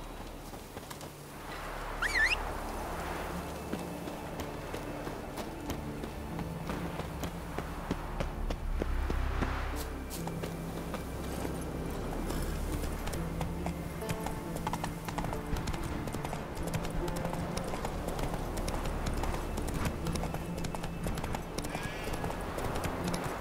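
Roach, a horse in The Witcher 3 video game, gallops with a steady, close clip-clop of hooves running on and on, while faint game ambience and an occasional snort sit in the background.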